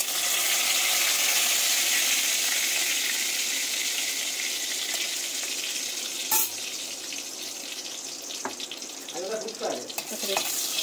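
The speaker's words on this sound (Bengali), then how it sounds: "লাল লাল করে একটু করে ভাজা হবে" Bay leaves and dried red chillies fry in hot oil in a kadai, giving a bright, continuous sizzling hiss close by, with a few sharp clinks near the end.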